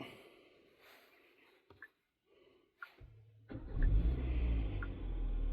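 A Kia K5 started remotely through the Kia app sits quiet with a few faint clicks, then its engine catches and settles into a steady low idle rumble that continues to the end.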